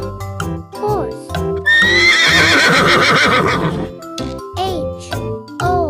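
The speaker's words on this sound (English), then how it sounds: "horse." A horse gives a long, loud whinny in the middle of a farm-animal sequence, its shaky pitch rising and falling. Short separate sounds and brief voices come before and after it.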